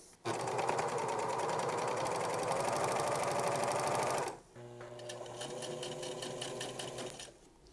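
A sewing machine runs steadily while hemming the bottom edge of a shirt, with a loud, even mechanical whir for about four seconds that briefly dips and then resumes at a slightly lower, rhythmic pace.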